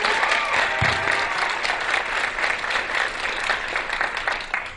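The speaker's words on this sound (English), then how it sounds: "I want one more big round of applause for all of our contestants." A big round of applause for the student contestants of the Texas Quiz Show 2011, Beyond Appearances vs Anderson-Shiro; loud, dense clapping from a large crowd, sustained throughout.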